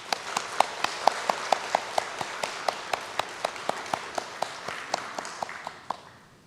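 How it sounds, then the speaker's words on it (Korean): A church congregation clapping for fathers, a fast, even, rhythmic beat of many hands in unison that carries on for several seconds before fading out. "우리 아버님들께 마음을 담아 감사와 사랑의 박수를 한번 드리겠습니다"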